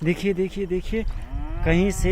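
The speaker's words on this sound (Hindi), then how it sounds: "बछड़े की आवाज़ भी आ रही है" A calf lowing nearby in a rural outdoor setting, several short moos in a quick rhythmic series followed by a longer rising call, with a person speaking briefly over it.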